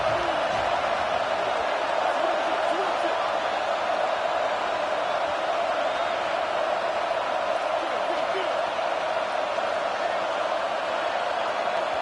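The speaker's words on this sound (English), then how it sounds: "this crowd trying to help keep them there" A stadium crowd in an NCAA football video game roars in a steady, dense wash of noise, with faint cheers and shouts rising inside it and no break throughout.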